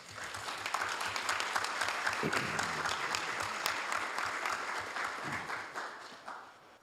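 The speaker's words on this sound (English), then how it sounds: "Ladies and gentlemen, let's give Raghav Ram a big round of applause." Applause for Raghav Ram at a Hayward City Council meeting, a crowd in a chamber clapping with a dense, even patter that holds steady and then tapers off near the end.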